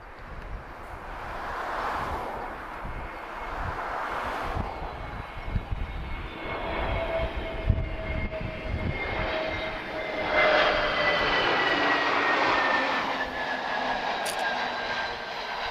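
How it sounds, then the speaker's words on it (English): An Airbus A321 lands in a gusty crosswind at Lisbon Airport, its engine roar rising and falling with whining tones sliding downward as it comes in. The sound is moderately loud and carries on for the whole stretch. "Let's watch this A321. Bit of a side wind today, guys, so we'll have some quite dynamic landings"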